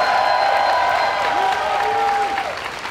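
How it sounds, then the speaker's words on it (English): At a pro wrestling event, the arena crowd applauds and cheers in a steady, loud roar of clapping, with whistles and voices rising over it. "Give yourselves a round of applause."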